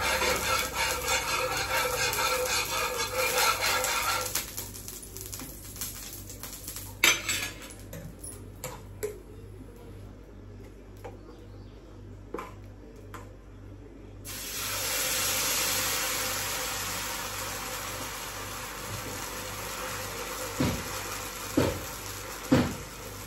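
Small dosas cooking on a ghee-greased pan, a steady sizzle and hiss broken by a quiet stretch in the middle, with occasional sharp clinks of utensils against the pan.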